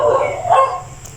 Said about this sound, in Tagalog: maingay po yung mga aso namin